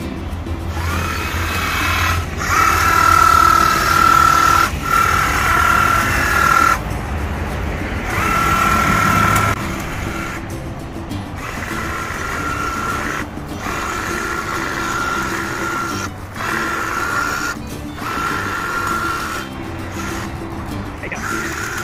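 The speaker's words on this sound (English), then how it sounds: "Even though it's just a domestic hedge trimmer," A Stihl HSA56 battery hedge trimmer, a domestic demo model, cuts through fairly thick hedge outdoors. It gives a steady, fairly loud electric buzz with a thin whining tone that starts and stops in bursts across the stretch, and no one speaks.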